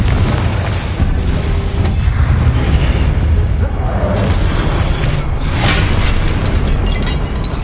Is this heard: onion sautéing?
no